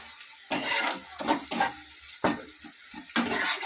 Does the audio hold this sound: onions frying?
yes